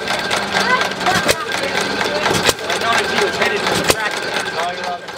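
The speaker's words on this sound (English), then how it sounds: "This antique ice cream maker was around 100 years old, and you can hear the engine firing" A roughly 100-year-old antique ice cream maker engine at the Dublin Days Festival in Dublin, New Hampshire, runs outdoors with a steady chugging mechanical drone and occasional sharp pops, fairly loud, with people talking over it.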